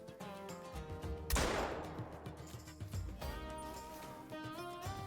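A single loud shotgun blast aimed at a pheasant in the hunting game Call of the Wild, cutting through a soft musical background and trailing off in a decaying rumble.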